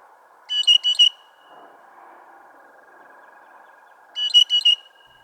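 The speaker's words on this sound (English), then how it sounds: "This call is the other squeaky gate call." A blue jay gives its squeaky gate call, two bursts of rapid, creaky, metallic squeaks separated by a few seconds, clear and fairly close against a faint steady background hum.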